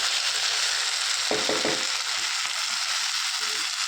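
Taro stolon and prawn curry simmers in a pan with a constant close hiss, a quick cluster of spoon scrapes and clicks in the middle as it is stirred.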